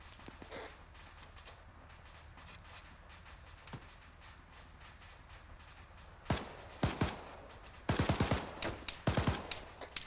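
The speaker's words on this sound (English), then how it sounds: "Taking machine gun fire." Machine gun fire in a military squad training game, a faint distant rattle early, then louder clustered bursts of rapid shots crackling near the end over a quiet field background.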